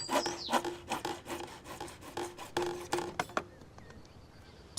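A file or rasp rubs back and forth across the cut end of a plastic downpipe, a series of close, dry scraping strokes in an irregular rhythm that stops near the end.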